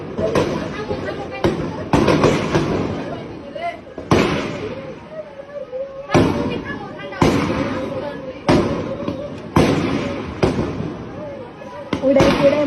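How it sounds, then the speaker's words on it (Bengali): Gunshots during a clash involving Bangladesh police, heard as a series of sharp, loud reports that come irregularly over about twelve seconds, with shouting voices and crowd noise throughout. "আর গুলি লাগছে"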